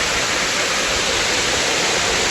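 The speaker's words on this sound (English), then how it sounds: "Over to the waterfall." Anderson Falls waterfall, a constant, loud, dense hiss of falling water pouring steadily without a break, heard close up and alone.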